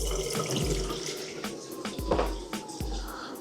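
Hot water gushes steadily from a tap, a continuous splashing rush with a few knocks and clunks over it, close by.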